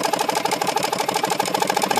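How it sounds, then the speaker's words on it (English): A Johnson Seahorse 1.5 hp single-cylinder outboard motor runs at low speed with a rapid, even chugging pulse, loud and close, with no voices over it. "Nice low speed, single cylinder shake though"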